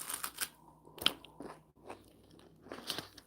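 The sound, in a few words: crunching on a vanilla wafer cookie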